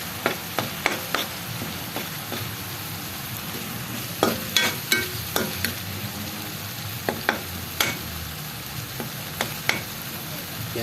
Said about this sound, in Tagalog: gisa natin konti ating alamang